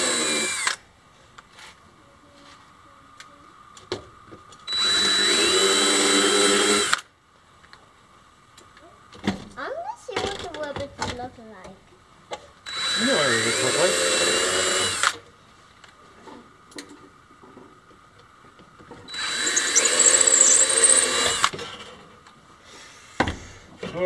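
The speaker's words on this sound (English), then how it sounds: "I'm drilling out the rivets so I can get this off." A power drill whirs in several loud, sustained bursts a couple of seconds each, separated by quieter clicks and handling noises as it bores out rivets on a helicopter's gear.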